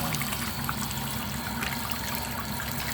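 Hot tap water runs in a steady, continuous stream while a prosthetic eye is rinsed, close and fairly loud, with no voices.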